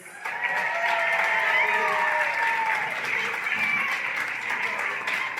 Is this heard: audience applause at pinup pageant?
yes